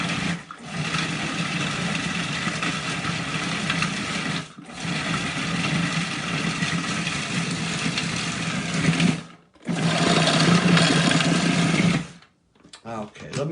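A food processor pulses ingredients into coarse crumbs, whirring loudly in three long bursts broken by brief pauses, then a few short pulses at the end.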